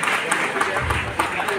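Audience applause at an art and cultural festival in Sultanpur, a dense steady wash of clapping filling the whole moment with a few sharper claps standing out, while background voices mingle beneath.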